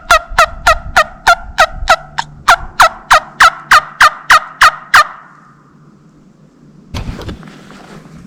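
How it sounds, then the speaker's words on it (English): A string of about fifteen evenly spaced wild turkey gobbles in a Mississippi national forest, close and loud, followed by a pause and a brief rustling thump. "I thought I heard a turkey"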